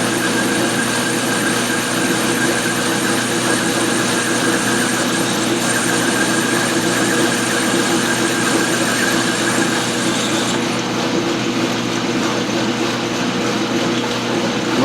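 A machine tool cuts metal quickly, giving a continuous, loud, high-pitched squeal with a steady motor drone beneath it that changes tone near the end.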